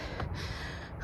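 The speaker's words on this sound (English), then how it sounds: "I just did speed drills, hence the gasping" Person catching their breath after speed drills, with one sharp breathy gasp followed by lighter, quieter breathing, close to the microphone with no talk.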